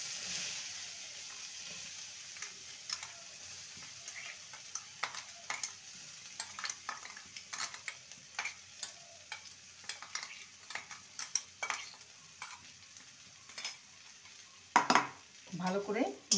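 Chopped green peas frying in a tempering of spices in a pan, with soft sizzling and repeated scraping stirs of a spoon against the pan, growing busier and louder toward the end.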